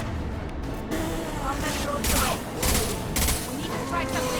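Gunfire and combat noise aboard the Collector ship in Mass Effect 2: dense, close bursts of shots and impacts under a rumbling background, with game voices speaking over the fighting.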